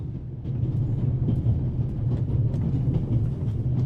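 A moving train in The Raven Remastered video game rolls along with a steady low rumble and faint rhythmic rattling of the carriages, continuous and moderately loud with no talking.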